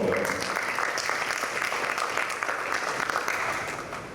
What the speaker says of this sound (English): So let's give them our applause for a job well.